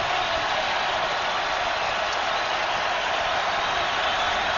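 A packed stadium crowd roars on third down and 10 at a 2012 college football game between Arkansas and South Carolina. The dense, steady wash of cheering stays loud and unbroken, with no commentary over it.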